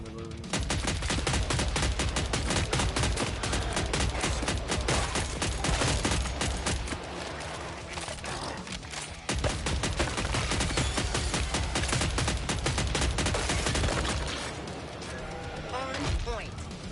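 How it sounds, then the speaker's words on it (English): Loud, continuous automatic gunfire from Killing Floor 3, rapid shots hammering on in dense bursts with brief pauses for reloading, under a steady bed of game noise. "I have a lot of bullets to fire and I just keep on reloading"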